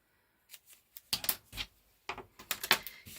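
Scissors cut through fabric washi tape in a run of crisp, close snips, some in quick pairs, with quiet gaps between and no talking.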